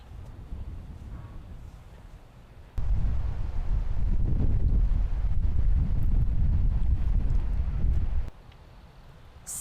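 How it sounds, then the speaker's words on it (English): Strong wind gusts across a disc golf course during a women's tournament round, a broad low rumble of wind buffeting the microphone that swells loudly for several seconds, then eases back to a steadier, quieter rush. "That wind is just still ripping."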